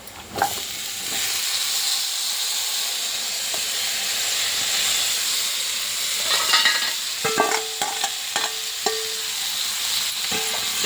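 Cucumber pieces go into a hot pan for a cucumber and tomato curry, producing a steady frying hiss with scattered stirring clicks and scrapes toward the end.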